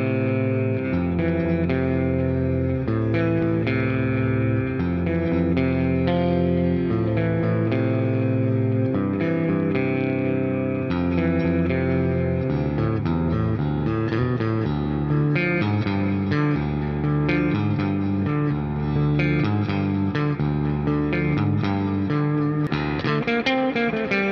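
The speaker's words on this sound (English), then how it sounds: "Next up, I'm gonna move to the middle position, which is activating both pickups at the same time, and we're gonna try out a clean tone" An Ormsby HypeGTR 8-string electric guitar played with a clean tone in the middle position, neck and bridge pickups both on. A steady run of ringing chords and notes with some echo and ambience, and no voices.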